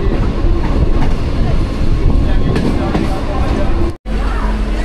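A passenger train running on rails between Tamluk and Digha in West Bengal, heard from inside as a loud, steady rumble with rhythmic clickety-clack and a murmur of voices, cutting out for an instant near the end.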